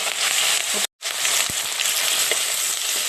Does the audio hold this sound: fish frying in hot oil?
yes